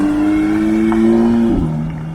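BMW M2 engine idling and revving loud and close, a steady tonal drone that drops in pitch as the revs fall, with no talk over it.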